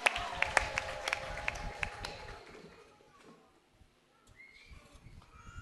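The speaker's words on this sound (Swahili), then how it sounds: "Hayo makofi yatosha, ongeza makofi mazuri." A church congregation claps in a burst of applause during a sermon, the rapid clapping loud for about two seconds, then thinning and dying away into quieter room noise.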